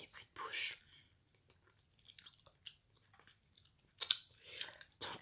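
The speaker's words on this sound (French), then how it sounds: "Donc j'ai un chewing-gum dans la bouche." Chewing gum close to the mic, with soft wet smacking and crunchy mouth sounds in a few bursts separated by quiet gaps, plus faint breathy whisper-like noise.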